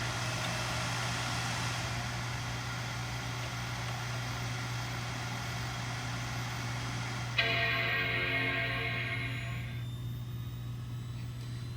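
A 2010 Mac Pro tower runs with a loud, steady fan roar and a low hum, then its startup chime rings out partway through as a bright, sustained chord over the fan noise, fading slowly.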